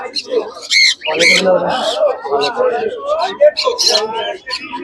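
Cockatiels at a busy pet market give loud, harsh squawks and chirps in repeated bursts, close by, mixed with a voice and background chatter.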